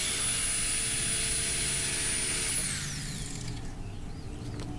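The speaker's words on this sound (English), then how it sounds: "so I'm gonna use the recip saw" Reciprocating saw cutting through stubborn screws holding a workbench under a table saw, a harsh high buzzing grind that holds steady, then eases and tapers off as the blade breaks through.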